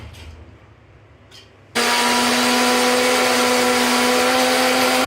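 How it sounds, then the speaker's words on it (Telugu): A mixer grinder grinding soaked urad dal starts abruptly after a quiet stretch and runs at a loud, steady whine until it cuts off. "ఇప్పుడు మనం మిక్సీ పడదాం మినపప్పుని చాలా మెత్తగా గ్రైండ్ చేసుకోవాలి"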